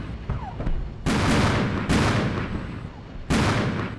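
Dense, continuous massed gunfire and artillery from the Armored Brigade 2 tank battle, with heavy booming blasts starting in repeated surges that overlap into a loud, sustained roar.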